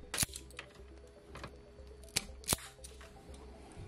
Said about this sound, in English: The conductors then need to be stripped to length to go into the back of the socket.